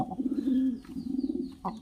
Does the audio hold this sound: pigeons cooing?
yes